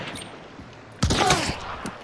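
A burst of gunfire erupts midway through a Hunt: Showdown match, loud and close after a quieter stretch of ambient game noise, with a few fainter shots trailing off afterward.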